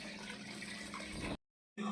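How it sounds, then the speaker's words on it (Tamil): Water pours steadily into a pressure cooker holding mutton bones for a curry, a continuous close splashing that cuts off abruptly, then resumes briefly after a short silence. "தண்ணியை கொஞ்சம் அதிகமாக ஊற்றிக்கலாம்"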